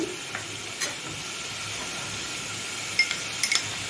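Garlic, ginger and green chili paste hitting browned fried onions in a pan, giving a steady soft sizzle throughout with a few light clinks of a utensil near the end.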